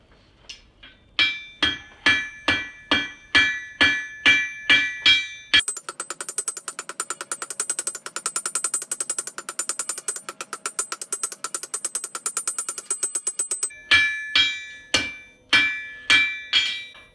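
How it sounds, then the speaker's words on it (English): Hammer blows on hot steel while forging a sword blade, steady ringing strikes at first, then a fast rapid-fire run of lighter hits, then slower heavy blows again. "Now when you're forging a blade, or anything really, if the steel stops glowing, that means it's way too cold."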